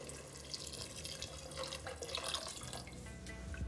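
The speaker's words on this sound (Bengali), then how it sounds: "আমি এখানে 2 কাপ ডালের জন্য দিয়ে দিচ্ছি 4 কাপ জল" Water poured into a pot of dal, four cups for two cups of lentils, giving a continuous splashing pour at moderate loudness for a few seconds, with no voices.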